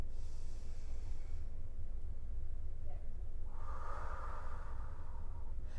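Slow guided breathing in and out, audible breaths and a drawn exhale rising over a steady room hum, with a voice talking faintly beneath.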